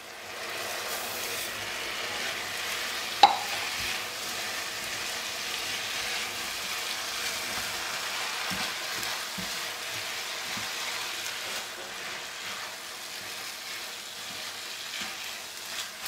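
Rice tipped into a hot pan for Portuguese arroz de tamboril, frying and sizzling steadily for about sixteen seconds with a sharp clatter early on as it is stirred, no voices.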